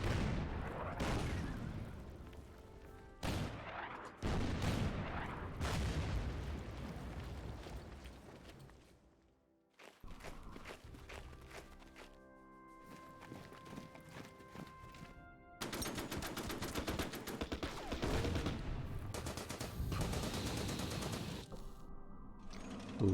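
Battle sounds from the wargame Order of Battle: Red Star: loud bursts of gunfire and heavy artillery explosions come in repeated waves, with a brief lull in the middle. No one speaks.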